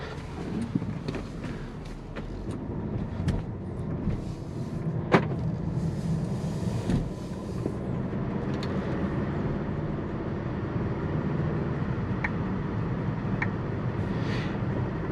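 Interior of a Volkswagen Tiguan SEL R-Line on the road, a steady low rumble of engine and tyre noise with a broad wind hush, occasional faint clicks and ticks from the cabin, continuous and even throughout.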